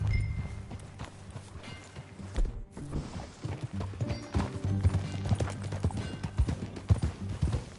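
Steady clip-clop of horse hooves at a walking pace in the video game Red Dead Redemption 2, close and clear, with a brief pause partway through and a low musical bed underneath.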